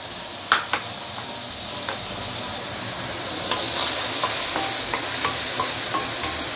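Lemongrass, coriander roots, curry leaves, garlic and tomato frying in hot oil for Indian-style fish head curry, a dense steady sizzle with occasional light stirring taps, near and unbroken.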